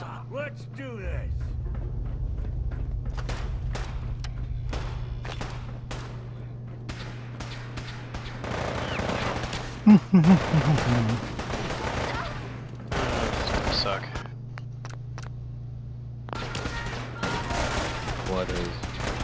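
Rapid gunfire bursts and single shots in the Fallout 4 video game, with crackling volleys, heavier booms and sharp cracks scattered throughout over a constant low hum, while someone talks intermittently over the shooting.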